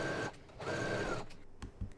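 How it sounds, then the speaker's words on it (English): Home sewing machine stitching a crotch seam on a McCall's 7726 garment, a short close whirring run that pauses briefly, resumes, then ends with a couple of soft clicks. "Once you have it all pinned, go ahead and stitch it together now."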